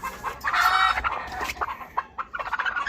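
Backyard chickens clucking close by, a quick series of cackles and short calls with brief pauses, no talking.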